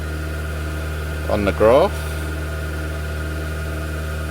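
A steady mid-pitched car engine hum runs throughout, held at constant raised revs, with a brief spoken phrase in the middle.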